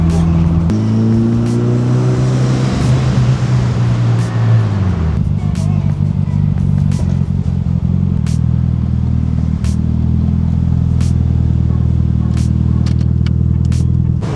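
Mitsubishi EVO 8 with a new turbo, driven hard: a loud, close engine climbs through the revs, drops on a shift, then holds a steady heavy drone, with faint clicks above.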